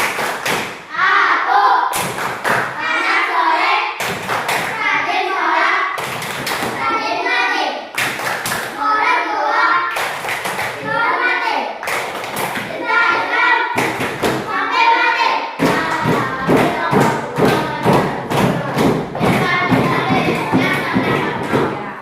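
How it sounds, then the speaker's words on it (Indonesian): Young children in an Indonesian classroom clap in a steady rhythm while chanting a 'tepuk anak soleh' clapping song. Sharp hand claps repeat throughout, growing faster and denser near the end, with the children's voices chanting over them. "Tepuk tangan anak soleh"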